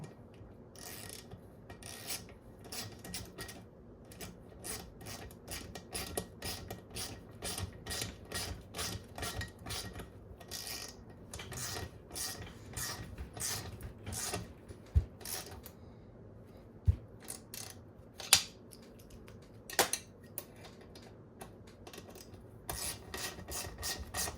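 A 10 mm box end wrench works a bolt on a Kawasaki KE175 motorcycle, giving a steady run of quick metallic clicks and ratcheting taps, with a few sharper knocks near the end and no talking.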